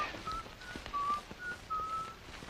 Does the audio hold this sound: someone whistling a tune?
yes